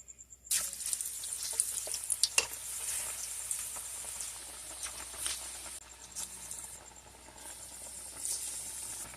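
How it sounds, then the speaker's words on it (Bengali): French fries dropped into hot soybean oil in a kadai start a sudden bright sizzle after half a second, which carries on as a fairly quiet, steady bubbling hiss with scattered pops and stirring clicks. "তেলটা গরম হয়ে গিয়েছে এখন আমি ফ্রাইসগুলো ভেজে নেব"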